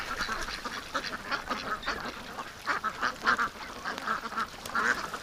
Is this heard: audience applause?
no